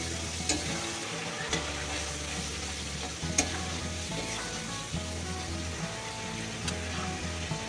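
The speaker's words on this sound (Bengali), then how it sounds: "এবার দিয়ে দেবো লঙ্কা বাটাটা" Green chili paste sizzles and fries in a hot pan for biryani, a steady close crackle with faint stirring scrapes and occasional spatters, heard alone without talk.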